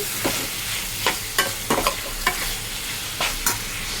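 Country chicken fries over high flame in a pan, with a steady loud sizzle broken by sharp scraping and clacking strokes as it is stirred, roughly once or twice a second, close up and with no talking.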